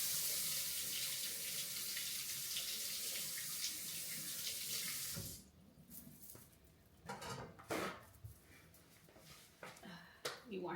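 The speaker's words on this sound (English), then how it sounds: "Wash my hands." Tap water runs steadily into a kitchen sink while hands are washed during sweet potato pie baking, then the flow stops, leaving soft clinks and handling noises nearby.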